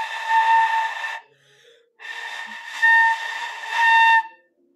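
A flute is blown across the embouchure instead of down into it, giving two breathy, airy tones with hissy noise over the pitch, separated by a short pause.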